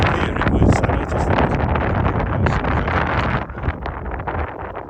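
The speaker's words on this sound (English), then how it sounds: "it seems like the wind's picking up again." Strong wind blows across Stanage Edge in the Peak District National Park. It buffets the microphone in loud, continuous rumbling gusts that ease slightly near the end, with no voices.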